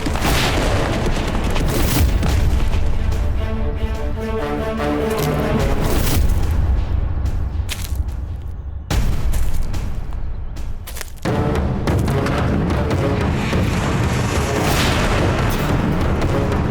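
Heavy, booming blasts roll out continuously, a thick low rumble of cannon fire with dense crackling layers, loud and sustained throughout without speech, from a cannon on a sand hill.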